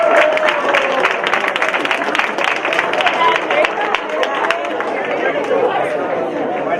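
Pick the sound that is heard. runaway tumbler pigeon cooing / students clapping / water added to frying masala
students clapping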